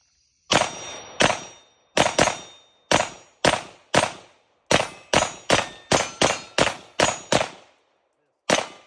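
Pistol shots from a Springfield Prodigy fired at a range, about fourteen loud sharp reports in irregular bursts, some in quick succession and a pause before a final shot, each ringing briefly, with no talking.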